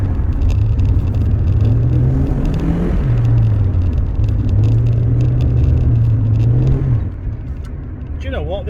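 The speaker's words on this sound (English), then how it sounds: "This Alfie car is actually quite zingy. It's quite a zippy little number when you put your foot down." A Rover 45 car's engine rumbles loudly from inside the cabin, its tone rising and dipping as it pulls and accelerates, then easing off near the end.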